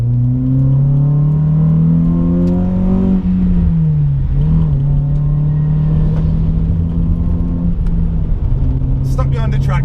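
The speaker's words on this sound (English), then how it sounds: "the car picked up pace beautifully there. It sounds incredible." A modified car accelerates hard along a road, its engine note climbing steadily in pitch, dipping at a gear change, then rising again as a loud, close, continuous drone.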